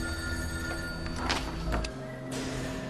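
A telephone rings through a dense, steady background of layered tones and noise, with bell bursts rising and fading over a few seconds, loud enough to stand clear of the backdrop.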